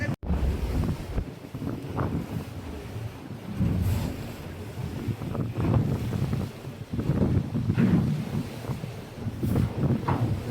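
Waves rise high and splash against a cruise boat in the Port Arthur wilderness, heard as loud surging wash and rushing swells over constant wind noise on the microphone.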